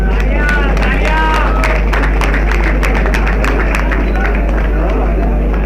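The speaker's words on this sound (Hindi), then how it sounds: "भाई तालियों से इस्तकबाल फरमाएं।" A crowd at an outdoor prize distribution for a pigeon flying tournament claps to welcome a guest. Continuous scattered applause runs under a loud, distorted public-address voice and a steady low hum.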